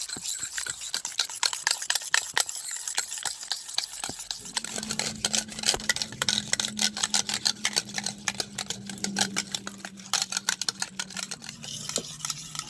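Strained yogurt being whisked by hand in a bowl until creamy, giving a quick, steady run of light scraping and tapping strokes that continues throughout, with a low hum underneath in the second half.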